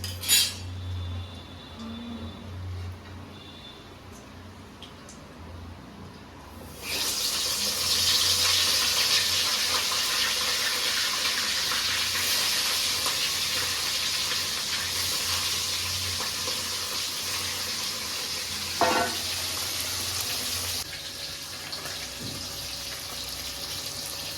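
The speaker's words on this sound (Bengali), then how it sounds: "তেল গরম হয়ে গেছে, আমি এবার মাছগুলো আস্তে আস্তে ছেড়ে দিচ্ছি।" Pieces of katla fish dropped into hot oil, a quiet clattering start giving way to a steady, broad sizzle of frying that continues strongly, with occasional utensil clinks over it.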